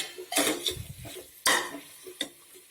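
Chilli and coriander powder masala being sautéed in a pan for Salem mutton sukka, with a few sharp scrapes and clinks of a spoon against the pan over a soft sizzle.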